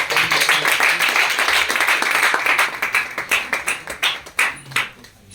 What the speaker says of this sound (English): Ladies and gentlemen, let's clap for